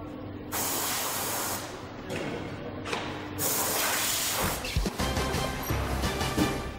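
Spray bursts as Koenigsegg car panels and glass are cleaned in a factory, several hissing sprays in sequence with brief handling knocks, close and steady, no talk.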